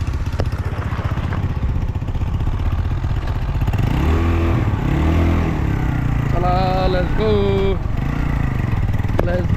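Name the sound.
motorcycle engine making a loud abnormal noise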